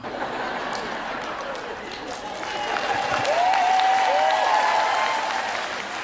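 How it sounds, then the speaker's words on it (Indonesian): Wives in the audience at a church revival gathering clap together, a dense, steady applause that swells midway, with faint crowd murmur and brief whistling underneath. "Para istri tepuk tangan maksudnya apa?"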